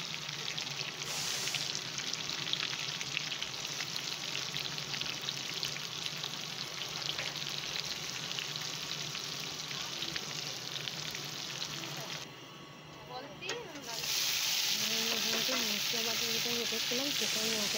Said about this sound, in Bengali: মাছের চর্বিটা গলে গিয়েছে, এবার এতে আমি মাছটা ফ্রাই করে সুন্দর।